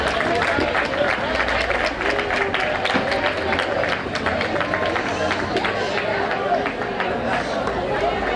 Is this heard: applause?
yes